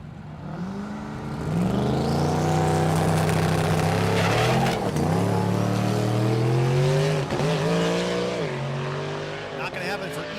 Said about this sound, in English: The Mustang in the left lane fries the tires off the thing